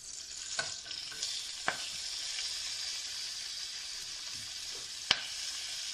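Curry leaves dropped into hot oil crackle and sizzle steadily, with a few sharp pops and spatters standing out over the constant frying hiss, no voices.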